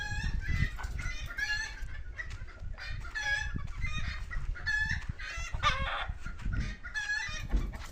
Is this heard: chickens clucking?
yes